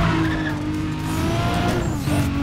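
Race cars in Need for Speed Undercover, including a Nissan Skyline R34, roar loudly with screeching tires and steady engine whine throughout, close and continuous with no talking.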